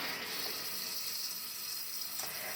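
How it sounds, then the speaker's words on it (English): A sink tap runs steadily while items are rinsed underneath, the water hissing and splashing faintly and evenly, with no one speaking. "Rinse them out again."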